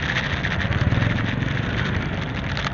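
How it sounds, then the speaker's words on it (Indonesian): A motorcycle engine hums steadily and fairly close as it passes against the flow of traffic in Bukittinggi, West Sumatra, a mid-pitched drone that swells slightly and then holds, with road noise around it. "Motor melawan arus, ini motor melawan arus."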